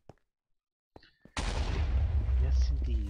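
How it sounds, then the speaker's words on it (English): Explosions from creeper plants in Minecraft erupt suddenly after a near-silent moment, a loud, continuous rumbling blast that keeps booming for the rest of the clip. "And you hear those explosions going off."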